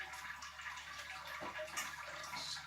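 Sparge water for beer brewing pours steadily into a vessel, a continuous close splashing rush with gurgling and dripping detail throughout.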